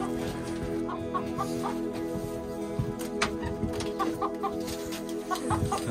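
Chickens in a coop, a flock under attack from an unseen predator, cluck continuously at close range, overlapping calls and scattered rustles forming a busy, steady clamor with no talk.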